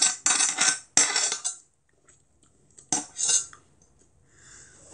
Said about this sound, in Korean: 이거 냄비 긁는 소리